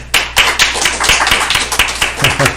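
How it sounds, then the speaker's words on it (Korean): Church congregation members clap for a student accompanist during a Sunday service, a small group of distinct hand claps landing in a loose rhythm, close and fairly loud, with a voice surfacing near the end. "김재현 학생에게 우리 한번 큰 박수 한번 보내줄까요"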